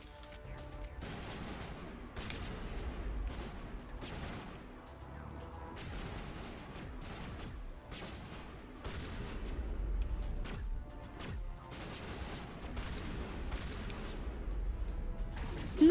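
Shotgun blasts and scattered gunfire crack through a Mass Effect firefight, irregular bursts of sharp shots over a low rumbling backdrop, moderately loud with no talking.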